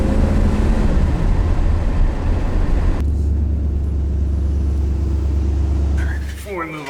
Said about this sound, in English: Just gotta fix that pesky idle.